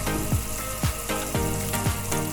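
Chicken adobo sizzles and fries steadily in a pan as vinegar is poured in, with a few sharp clinks of a spoon or utensil recurring against the pan over the continuous close hiss.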